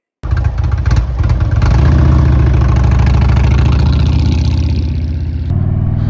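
A motorcycle engine runs close and loud as the rider sets off, a steady low rumble that swells and holds after a moment before easing slightly near the end, with no talking.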